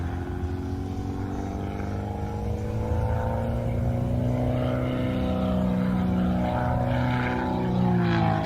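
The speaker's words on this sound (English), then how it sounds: "He puts the little Peitz through its maneuvers." Small Pitts aerobatic biplane flying air show maneuvers and a series of rolls at Sun 'n Fun, its propeller engine droning steadily throughout with sweeping pitch shifts as it climbs and dives, moderately distant and alone.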